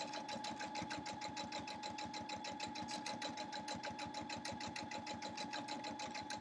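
A home sewing machine runs steadily through two layers of fleece, its needle pounding in a fast, even rhythm with a constant motor hum, close and alone.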